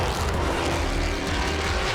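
Pirelli World Challenge GTS race cars battle wheel to wheel at Road America, engines roaring loud and continuous with dense broadband noise as the pack charges into a braking zone.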